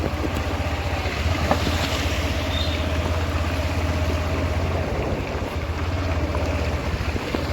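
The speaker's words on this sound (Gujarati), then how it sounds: "પાણીમાં ગાડી નાખી." A vehicle pushes through floodwater on a monsoon road, producing a continuous loud rushing and churning of water with low engine rumble throughout, close and steady.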